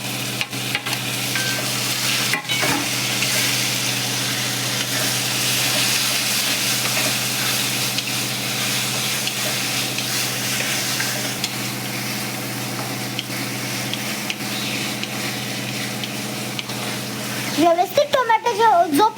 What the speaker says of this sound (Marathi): आणि याच्यात आपण टाकणार आहोत टोमॅटो. हे टोमॅटो अगदी 2-3 मिनिटच आपल्याला फ्राय करायचे कांद्यासोबत.